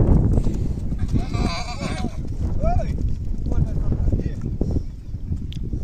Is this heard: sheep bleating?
yes